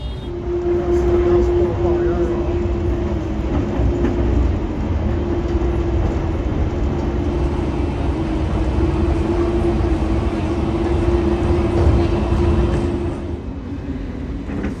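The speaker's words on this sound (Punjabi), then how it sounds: "ਮੈਟਰੋ 'ਚ ਚੜਿਆ ਨੂੰ 7-8 ਮਿੰਟ ਹੋ ਗਏ ਆ" Steady rumble and whine inside a moving airport metro train, a constant hum with a tonal drone throughout, while voices talk over it.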